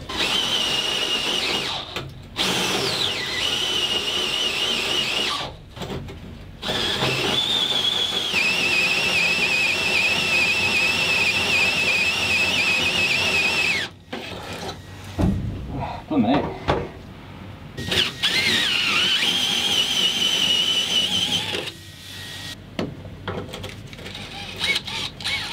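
A hole saw bores through metal for gearbox cable controls, producing several long whining cutting passes with a rising and falling pitch, separated by short pauses and clunks, close and loud.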